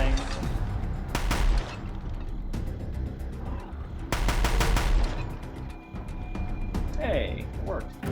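Bursts of Deathbringer machine-gun fire in Horizon Zero Dawn, two long rattling volleys with mechanical clatter between them, loud and close, with game sounds underneath.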